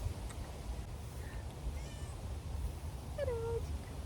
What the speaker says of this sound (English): This cat is just chasing me.